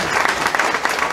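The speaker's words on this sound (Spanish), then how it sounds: "Fuertes aplausos para Dios" Church congregation applauding at a house inauguration service in a village: dense, steady clapping across the whole short burst, fairly loud, with a faint murmur of voices inside the crowd noise.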